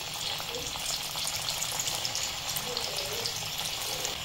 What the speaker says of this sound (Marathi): आता आपण याच्यामध्ये वड्या तळून घेऊया।